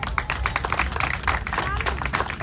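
An audience at a Portuguese flag raising ceremony claps, with a brisk, dense patter of hands that is fairly close and continuous. A voice speaks faintly over the applause.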